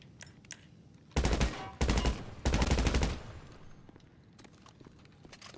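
Three rapid bursts of shotgun fire ring out close and loud in GTA 5 Online during a solo Kortz Center heist, separated by brief pauses and followed by quieter scattered game noises.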